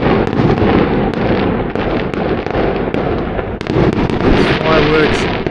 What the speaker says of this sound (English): There's fireworks everywhere.